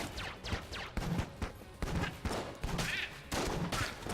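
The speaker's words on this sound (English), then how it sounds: "I'm going to use a little bit of pulse cannon ammo." Pulse cannon fire in the video game Enter the Gungeon: a rapid run of punchy synthetic blasts in quick succession, loud and continuous across the whole stretch with no talking.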